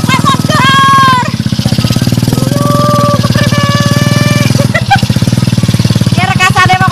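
Motorcycle engine, apparently an ojek (motorbike taxi) hauling timber on an extreme route, revs loud and close with rising and falling pitch, while people shout and talk over it.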